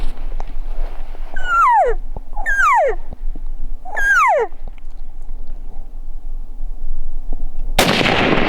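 A rifle shot at an elk during a hunt cracks out as a single loud, sharp blast near the end. It follows three drawn-out, falling whistle-like calls over quiet outdoor background.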